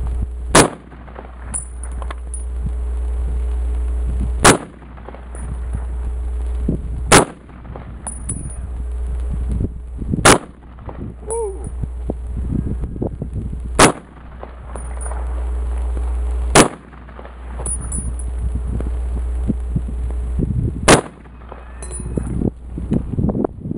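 Gunshots at an outdoor shooting range ring out as sharp, loud single cracks spaced several seconds apart, about eight in all, over a steady low rumble of wind and background hum.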